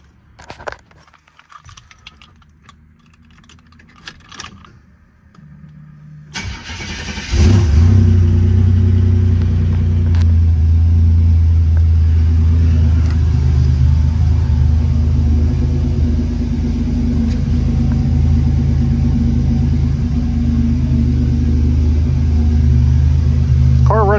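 A 1987 Buick Grand National with its original, never-opened engine cranks and fires up after a few quiet seconds of fumbling, then settles into a loud, deep rumbling idle with a brief rev, close to the car.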